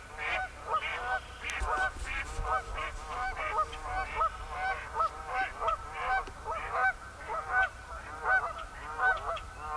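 Outdoor flock of geese honking in repeated nasal calls, a continuous chorus of overlapping honks at moderate distance under a quiet natural background.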